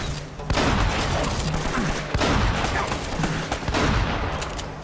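Gunfire in Uncharted: Drake's Fortune, a rapid string of loud, close shots crackling in irregular bursts over a busy, rumbling backdrop, with no speech.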